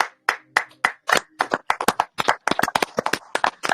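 Congregation clapping for Jesus at a church service: many hands striking in quick, uneven bursts that grow denser and more rhythmic, loud and close, with no talking.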